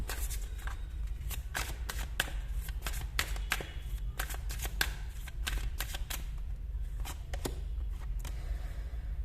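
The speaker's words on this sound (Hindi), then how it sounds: "मैं शफल भी नहीं करूँ, कार्ड्स पहले ही कर लूँ, लेकिन फिर लोगों को विश्वास नहीं होता, इसलिए मैं सामने शफल करती हूँ" Tarot cards are shuffled by hand, a rapid run of crisp riffling snaps and slaps close up, repeating in quick bursts over a low background hum, no talk.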